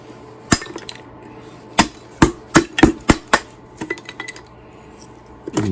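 Walnut wood with old plug holes is split on a homemade kindling splitter, giving a string of sharp, loud, close knocks and cracks, about six in a fairly quick irregular rhythm, with quieter clatter in between.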